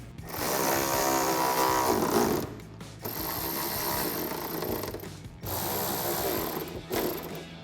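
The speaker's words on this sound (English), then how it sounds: "And tighten those down with a 10mm socket." A ratchet wrench with a 10mm socket tightens bolts inside a vehicle wheel well during a fog light install, giving three bursts of steady close mechanical clicking separated by short pauses.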